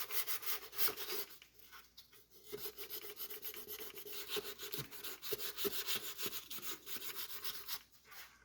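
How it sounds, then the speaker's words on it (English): Close rasping as 400 grit sandpaper is rubbed by hand over a Boba Fett helmet being prepped for paint, in steady repeated back-and-forth strokes with brief pauses. "give it a good rub down with the 400 grit sandpaper"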